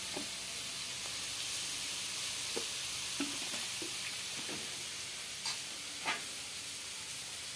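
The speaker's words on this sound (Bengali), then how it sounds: "আমি কাঁচা লঙ্কা আর পেঁয়াজ দিয়ে দিচ্ছি, দিয়ে আমি তেল দিয়ে দিচ্ছি।" Greens fry in oil with green chilli and onion, giving a soft, continuous sizzle and hiss with occasional light scraping knocks from stirring in the pan.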